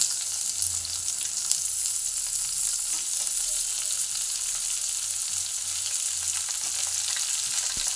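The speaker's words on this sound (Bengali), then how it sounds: "রসুনটা ভাজা হয়ে যাওয়ার পর দিয়ে দিচ্ছি কুচনো পেঁয়াজ" Chopped onion frying with garlic in hot oil, a dense, even hiss of sizzling that carries on steadily and close throughout.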